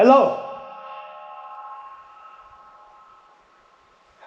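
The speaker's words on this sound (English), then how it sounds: "it's just like a tubular sound that travels all the way down" A single spoken greeting inside a long tubular passage of a disused Australian dam, the voice ringing out and lingering as a sustained, slowly fading tonal resonance for several seconds.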